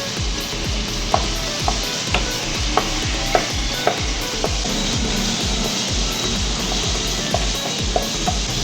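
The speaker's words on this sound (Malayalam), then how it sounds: "എണ്ണ ചൂടായി വരുമ്പോൾ നമ്മൾ തല്ലി വെച്ചിരുന്ന ഇഞ്ചിയും പച്ചമുളകും പേസ്റ്റ് അതിലോട്ട് ഇട്ട് കൊടുക്കാം" Ginger and green chili paste fries in hot coconut oil, giving a loud, steady crackling sizzle with scattered sharp pops and stirring scrapes throughout, with no voices.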